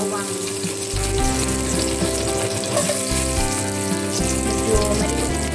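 Garlic fries in a little oil in a hot pan for mixed vegetable sauté, giving a bright steady sizzle close by, with low humming background tones underneath and no speech.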